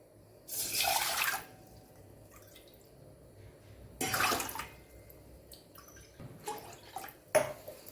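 Water for rice-flour khichu splashes and pours in three separate bursts, with quiet pauses and small clinks between them, close by and fairly soft.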